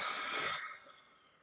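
A storyteller's voice imitates a giant snoring with one loud, breathy rasping inhale that cuts off sharply and fades into near silence.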